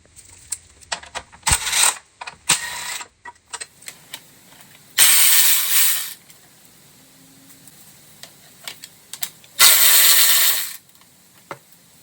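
Ratchet loosening the 10 mm bolts on the radiator fan of a 2007–2012 Acura RDX, with two long bursts of rapid clicking ratcheting among scattered metallic taps and clanks, close and fairly loud, no talking.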